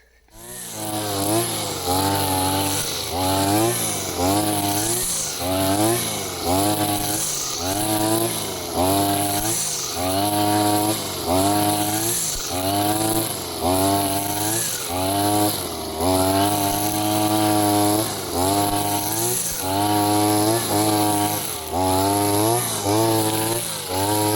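A Chinese ABS petrol grass trimmer with a trimmer spool cuts steadily, its two-stroke engine loud and close, revving and easing in a repeated rhythm with a buzzing whine throughout.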